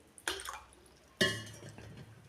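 Water is poured into a steel pot while rasgulla is being prepared. It comes as two brief, soft splashing bursts about a second apart, fairly quiet and close.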